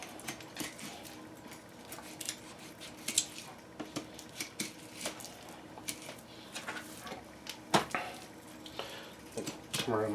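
A dull knife works through a leg of lamb with soft, irregular scraping and tapping against a cutting board, close but faint, with occasional sharper knocks and low kitchen background.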